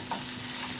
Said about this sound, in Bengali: এইভাবে তোমরা খারকুল পাতা বাটা করে নাড়া করো